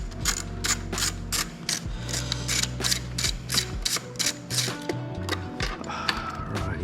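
A ratchet wrench loosens a nut on a Kia Stinger GT engine during spark plug removal, giving a rapid run of close, sharp clicks in bursts, with a low mechanical hum underneath.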